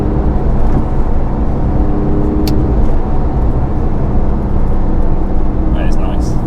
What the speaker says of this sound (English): it's quite a meaty engine still, isn't it?